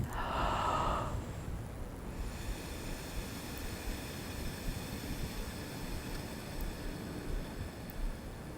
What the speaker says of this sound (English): What I would like to do is take just a few deep breaths and then exhale through the straw.